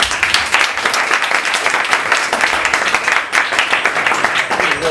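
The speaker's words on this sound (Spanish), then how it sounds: "Un fuerte aplauso para José." Loud audience applause, many hands clapping continuously with a slight swell partway through.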